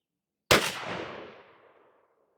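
A single loud blast from a Mossberg 835 12-gauge shotgun firing a 3.5-inch Winchester Longbeard XR #4 lead shell, a sharp report followed by a long rolling echo that fades over about a second and a half.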